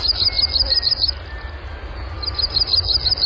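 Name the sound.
Blackburnian warbler (Setophaga fusca) song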